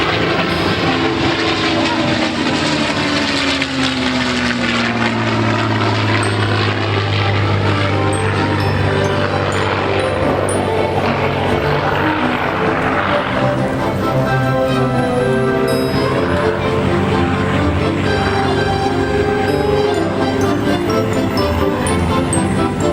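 An aerobatic aircraft makes a topside pass at the Canadian International Air Show, its steady engine drone rising and shifting in pitch as it sweeps past, loud and continuous with crowd and wind noise beneath.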